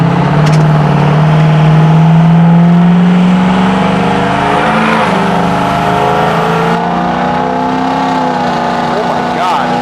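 Ford 6.0L Powerstroke diesel engine revving under throttle, a loud, close rising drone that holds and then settles to a lower, rougher rumble, with people talking over it.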